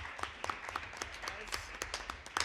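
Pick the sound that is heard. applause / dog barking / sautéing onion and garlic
applause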